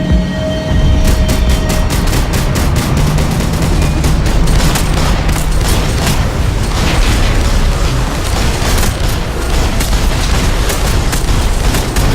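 Rapid bursts of gunfire in Max Payne 3, dense volleys of shots repeating steadily over a loud, constant game soundscape with booms and mechanical clatter.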